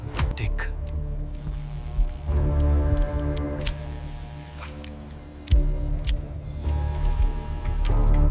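A linked bomb timer ticks steadily in a tense standoff, its regular clicks running over a low droning hum with a few louder thumps partway through.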